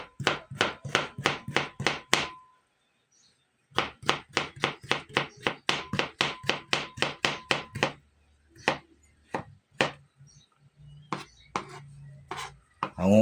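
Knife finely chopping chayote on a cutting board, sharp rapid knocks in quick bursts with a short pause, then slower scattered taps near and loud, no talk.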